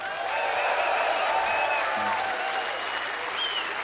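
A concert crowd at an outdoor rock show on a town square applauds a drummer, with sustained clapping and scattered cheers and whistles filling the whole stretch at close, even loudness.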